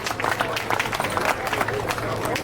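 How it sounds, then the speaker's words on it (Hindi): Applause from the audience at a community award ceremony forms a dense, steady patter of many hands clapping at close range, with crowd murmur mixed in. "जोरदार तालियां"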